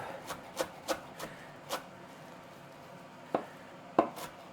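A knife chops fresh parsley finely on a cutting board, with a series of sharp, close knocks in an uneven rhythm and a short pause before the final strokes.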